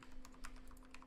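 Rapid keystrokes on a computer keyboard while a web address is entered for a networking ping test, a quick irregular run of close, crisp clicks over a steady low hum.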